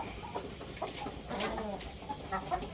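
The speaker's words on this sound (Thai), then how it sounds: "ไก่ตัวเมียสวยๆนะครับ" Hens cluck softly in short, scattered calls at close range, mixed with faint farmyard rustling.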